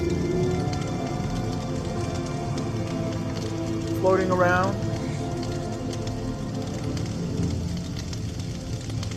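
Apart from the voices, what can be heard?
rain sound effect in a Csound jam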